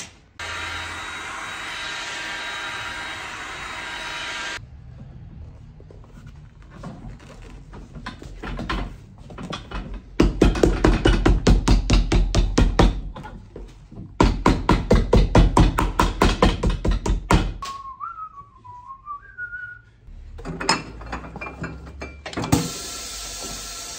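Goodyear leather sole stitcher machine stitching a leather shoe sole in a workshop: bursts of rapid mechanical clattering and whirring, loud and close, broken by pauses and a few higher whines and clicks.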